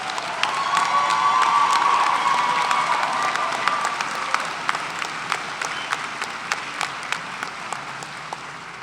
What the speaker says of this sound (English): Let's give a round of applause in recognition of these special